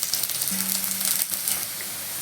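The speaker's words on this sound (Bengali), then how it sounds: "3-4 কোয়া রসুন একটু ছোট ছোট করে কুচিয়ে নিয়েছি। একটু সামান্য লাল করে ভেজে নেব" Finely chopped garlic fries in hot oil with a steady, close hiss and crackle, mixed with cumin seeds for a mustard greens dish.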